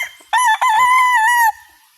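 A fighting cock rooster crows once up close, a loud drawn-out call with a brief break near the start, then quiet.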